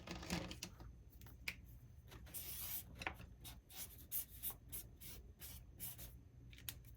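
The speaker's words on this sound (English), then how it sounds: "I'm starting to draw stuff here." A marker moves across a board in quiet, close squeaks and short scratchy strokes, some quick taps, and pauses between them.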